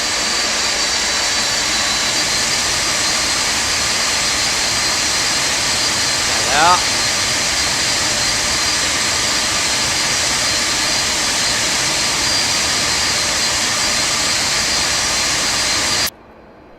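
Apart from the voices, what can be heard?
Boeing 747-200 jet engines during takeoff in X-Plane 12 video game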